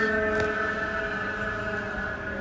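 A police siren sounds from a passing car outside during a livestream, heard as a steady, sustained tone held throughout, moderately loud and slightly distant, with no talking.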